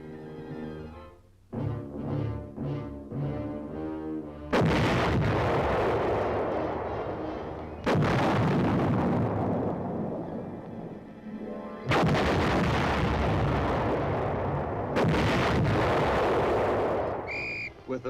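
A 280-millimeter artillery gun firing conventional shells during a military field maneuver: three or four massive booming blasts, each followed by a long rumbling decay, with music playing between the shots.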